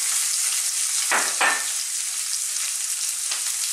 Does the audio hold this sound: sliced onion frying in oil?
yes